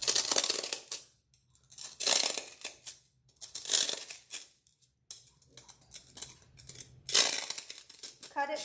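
Scissors snip through a foam block in repeated rough, crunchy cuts spaced about a second apart, close and fairly loud with brief quiet gaps between strokes.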